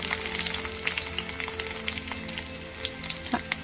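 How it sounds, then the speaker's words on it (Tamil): Chopped onions fry in a pan with mustard seeds for an Andhra-style chicken curry, giving a close, continuous crackling sizzle with scattered pops and no talking. "அந்த ஆனியன் நல்லா கோல்டன் ப்ரௌன் வர வரைய நம்ம நல்லா ஃப்ரை பண்ணணும்."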